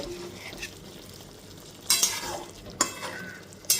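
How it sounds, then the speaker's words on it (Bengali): Spices with Kashmiri chilli powder being stirred and fried in a pan for a thin fish curry, a soft sizzle underneath with a few sharp scrapes of the spoon against the pan. "সব কিছু দিয়ে দেওয়ার পর খুব ভালো মতো কষিয়ে নেব"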